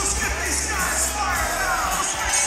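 A packed MMA crowd at Shamrock 290 keeps up a steady, loud roar of cheering and shouting as the third and final round gets under way, with a dense wash of voices throughout.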